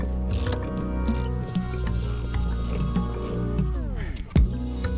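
Torx bit screws being ratcheted back in under a vehicle seat to secure a fire extinguisher bracket, giving a continuous close mechanical whirring and clicking with a louder knock near the end.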